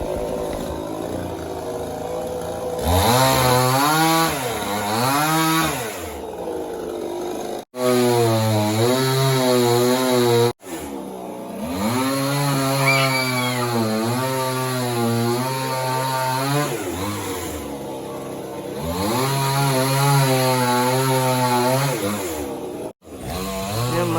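A chainsaw cuts down a coconut tree in a home yard, its engine loud and close, rising and falling in pitch as it bites in, with a few sharp breaks and no talking.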